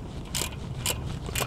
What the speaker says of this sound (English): if you want something hand tight, you only use the head of the ratchet like this